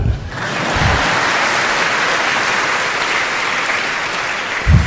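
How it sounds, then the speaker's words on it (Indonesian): Sustained audience applause at an inspirational speech in Jogja, a dense steady clatter of many hands filling the whole stretch, with brief low voice bursts at the start and end. "Boleh tepuk tangan."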